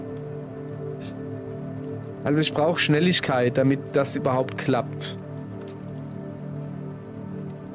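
Steady rain falling in the video game Dispatch, a constant hiss running under someone speaking German.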